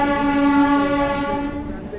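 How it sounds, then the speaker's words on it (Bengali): The Jaleswar–Puri MEMU local train pulls into platform 3 at Jaleswar station, its horn blaring loud and steady, then slowly fading as the train comes in. "অলরেডি 8 মিনিট লেটে কিন্তু জলেশ্বর স্টেশনের 3 নম্বর প্ল্যাটফর্মে ঢুকলো জলেশ্বর পুরী মিমো"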